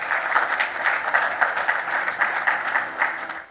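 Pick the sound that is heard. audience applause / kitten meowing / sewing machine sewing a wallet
audience applause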